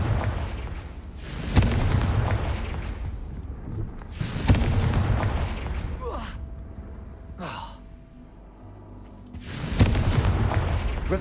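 Confringo fire-blast spells explode in the Hogwarts Legacy video game, three deep booming blasts spaced a few seconds apart over a constant rumbling game backdrop, with whooshing casts between them.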